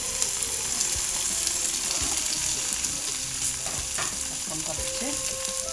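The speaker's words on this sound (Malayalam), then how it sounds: "ബീൻസും തക്കാളിയും ഒക്കെ നല്ലെണ്ണയിലാണ് വഴറ്റുക" Beans sautéing in sesame oil with cumin for tomato rice: a steady close sizzle and crackle with occasional stirring scrapes, under a brief spoken word.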